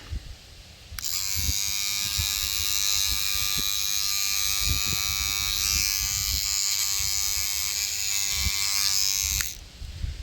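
A vibrating toothbrush buzzes steadily against tomato plant flowers in a summer garden, a loud high whine starting abruptly, holding for several seconds, then cutting off, with faint outdoor rustles beneath.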